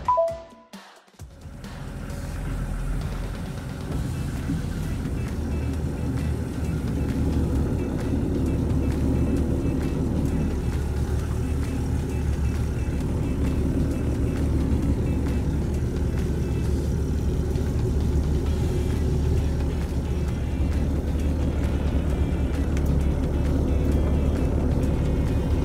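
Engine and road rumble inside a moving truck travelling through a flood-damaged area in December 2021: a steady, low, continuous drone after a brief handling noise at the start.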